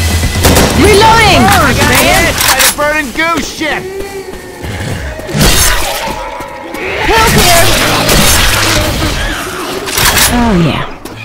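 A pipe bomb explodes amid gunfire in Left 4 Dead 2 on the Derailed map: loud bursts of shots and booms. Shouting voices and frantic chatter run through and over the noise.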